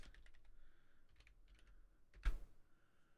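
Quiet tapping on a computer keyboard while a password is entered, a short run of soft, irregular keystrokes ending in one louder key press, close and with no talk.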